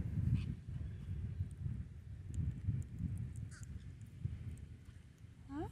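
Pet birds give several faint, scattered caw-like calls over a steady low rumbling background, with no clear talking.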